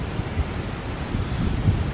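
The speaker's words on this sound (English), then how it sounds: "It's getting windy now" Gusty wind blowing outdoors at night near an abandoned chapel, a steady low rumbling roar with soft buffeting swells across the whole stretch and no voices.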